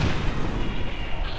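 Grenade explosion in the game XCOM 2, a sustained loud rumbling blast with a deep low roar filling the whole moment, no voices over it.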